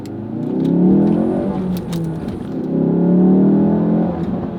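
A Ford Focus RS pulls hard through its gears, the engine note swelling loud and close in two long surges with a brief dip between, with no talk over it.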